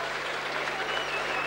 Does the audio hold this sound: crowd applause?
yes